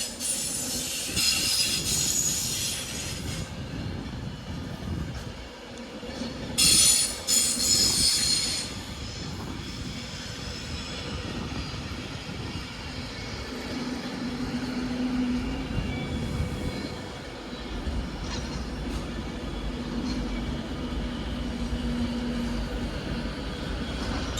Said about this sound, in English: we've got a Pendolino arriving in from, pretty sure this one's coming in from Glasgow Central